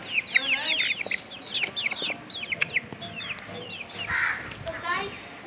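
Native deshi chickens in a home garden cluck and call repeatedly in quick, overlapping bursts, fairly close and moderately loud, with a brief voice heard faintly partway through.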